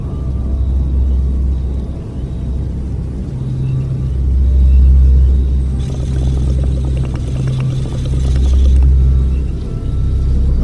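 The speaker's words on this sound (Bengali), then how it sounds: "মাঝে মাঝে বজ্রপাতের শব্দে মুখরিত হয়ে উঠছে চারপাশ" Deep thunder rolls on and off through a rainy night, a heavy low rumble that swells and fades under a steady wash of rain, with no voices.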